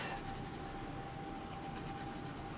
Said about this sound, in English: So there is some smudges from the old gasket here. A little bit of Scotch Brite.